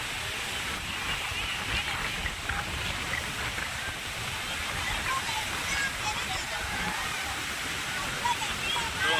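Sea water at Dumas beach, a steady broadband wash of surf and breeze running evenly throughout, with faint voices now and then in the background.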